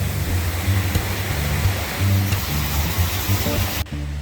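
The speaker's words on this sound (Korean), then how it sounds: "두 번째 폭포 상단입니다" Water rushes continuously over the upper section of Igise Falls in a Daegu mountain valley, a loud, steady broadband roar that holds without pause.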